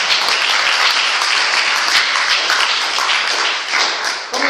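A church congregation applauds during a worship service, dense sustained clapping from many hands filling the room loudly and steadily.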